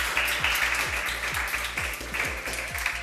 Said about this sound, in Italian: Un applauso ragazzi e benvenuti a Cuccioli e Campioni.